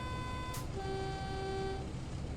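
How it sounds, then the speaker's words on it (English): Locomotive cab AWS warning alarm on the West Coast Main Line in Train Sim World 6, a steady electronic tone sounding twice over a constant low cab rumble, with no voices. "That was our AWS alarm"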